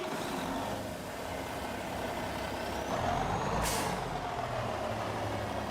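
International truck with a Cat C13 engine starting up in a farming video game: an air-brake-like hiss and mid-clip surge over a steady engine drone, moderately loud with no talk.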